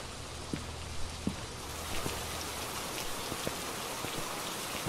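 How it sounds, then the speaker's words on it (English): Steady video game rain hisses loudly, with scattered individual drops tapping sharply on a surface through the downpour. "It's really loud rain."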